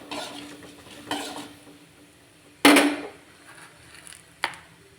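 Urad dal and mustard seeds tempering in hot oil, with a soft sizzle broken by a couple of sharp stirring and pan clatters, close and fairly loud.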